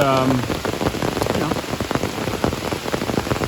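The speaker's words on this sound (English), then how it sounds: "It's raining pretty hard." Heavy rain pouring steadily onto a surface nearby in a cow field, a dense continuous patter of drops with a brief tonal sound at the very start.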